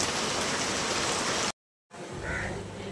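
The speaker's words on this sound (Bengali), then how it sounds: "সকাল থেকে তো বৃষ্টি হয়েই যাচ্ছে" Steady rain falling in a village, a loud continuous hiss that cuts out abruptly for a moment, then resumes slightly softer with scattered drops, no voices.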